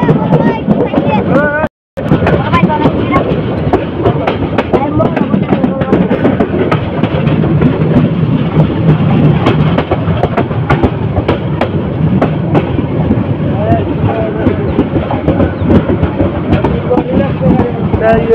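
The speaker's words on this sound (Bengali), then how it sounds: "চট্টলা এক্সপ্রেস ট্রেনটি ভৈরব বাজার জংশন এসে প্রবেশ করেছে 2 নম্বর প্ল্যাটফর্মে" The Chottola Express, running from Dhaka to Chittagong, rolls into Bhairab Bazar junction: a loud, steady rumble with rapid wheel clatter and wind buffeting, continuous throughout apart from one brief drop near the start.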